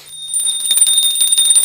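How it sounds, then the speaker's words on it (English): A bell rung during a puja offering rings with a bright, sustained high metallic tone, rapidly and continuously struck, close and loud, lasting the whole moment. "please ring the bell as you do so"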